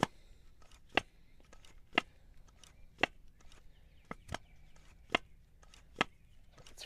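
Sharp, dry clicks and crunchy snaps repeating about once a second from a broken DISA valve flap on a BMW intake manifold, mechanical and fairly close, with faint scraping between them.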